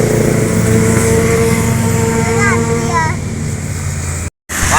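Loud motorcycle engines revving and rising in pitch as they pass close by on a highway toward Bakauheni port, with heavy traffic roar throughout and a brief cutout near the end.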